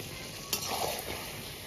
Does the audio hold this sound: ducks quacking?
no